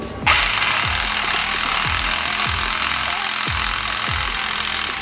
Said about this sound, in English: I'm going to get my impact gun and I'm going to impact this bolt